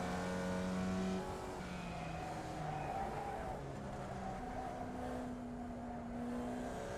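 Engine of a slow race car, a V-class Volkswagen Beetle-based machine, driven in iRacing on a short track layout, droning and revving through gear changes at moderate volume, steady throughout with shifting pitch as it accelerates and lifts.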